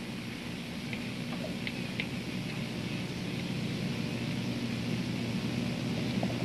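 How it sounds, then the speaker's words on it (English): Steady hiss from a General Radio white noise generator, a flat, constant broadband rush at low level with no variation, running alone throughout. "we take our white noise generator, our general radio"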